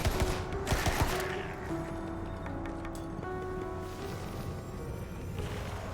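A barrage of gunfire in the video game Tiny Tina's Wonderlands opens with a loud cluster of rapid shots, then fades into quieter, sparser hits and ringing tones over a low background.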